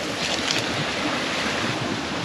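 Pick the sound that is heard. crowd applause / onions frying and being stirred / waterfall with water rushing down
waterfall with water rushing down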